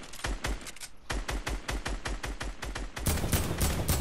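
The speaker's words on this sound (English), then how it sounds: "I decided to use the heavy assault rifle for what it's for" Rapid bursts of heavy assault rifle fire in a shooter game, loud and close, with sharp repeated shots in fast rhythmic strings, briefly pausing before a denser, harsher volley.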